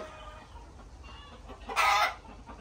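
Egg-laying hens cluck on a small farm, a faint low murmur that swells into one louder, brighter squawk near the end.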